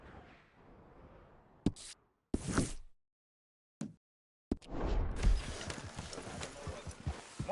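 Horse hooves clip-clopping in Red Dead Redemption 2, a handful of sharp, separated hoof strikes broken by near-silent gaps, then a denser run of hoofbeats with rustling movement, close and clear.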